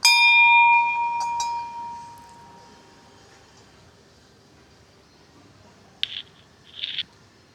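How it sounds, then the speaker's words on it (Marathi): A bell at a small Shiva shrine rings out loud and clear at the start, its metallic tone decaying over about two seconds, then near-silence follows with a couple of brief scraping knocks at the end. "इकडे घंटा दिलेली आहे."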